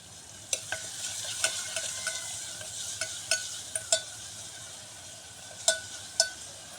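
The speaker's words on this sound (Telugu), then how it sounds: "ఆయిల్ వేసి, ఉల్లిపాయలు వేసి, కరివేపాకు, దీంట్లో అల్లం పేస్ట్, కొద్దిగా ఉప్పు వేసి మగ్గించుకుంటున్నాను" Onions sauté in oil with curry leaves, ginger paste and a pinch of salt, giving a soft, low sizzle broken by sharp clicks and scrapes of a spoon stirring the pan at irregular intervals.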